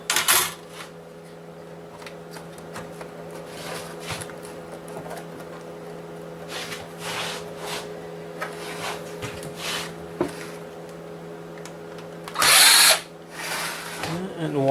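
Near, quiet handling of a small games console with a power screwdriver on small Phillips screws. It gives short whirring bursts and clicks, and one sharp loud buzz near the end.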